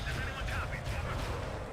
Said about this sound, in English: What was that second explosion?